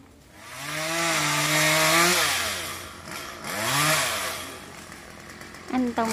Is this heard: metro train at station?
no